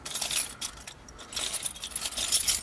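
Metal keys jingle and clink in a few quick bursts, close by and fairly quiet, with short pauses between shakes.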